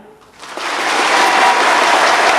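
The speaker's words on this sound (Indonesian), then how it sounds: "Kalau boleh Bapak Ibu silakan tepuk tangan yang meriah." Seminar audience applauding on cue, the clapping rising quickly from near silence into a loud, dense, sustained roar that stays full to the end.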